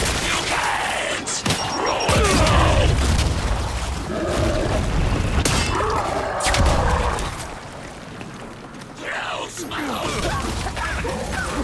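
A frag grenade blows up in the Gears 5 campaign as deep, loud booms within steady rattling gunfire, with shouted voices over the combat.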